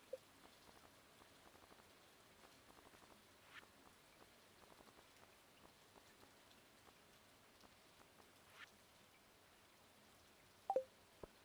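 Soft, steady patter of rain in the video game Stardew Valley, quiet and continuous, with an occasional brief electronic blip near the end.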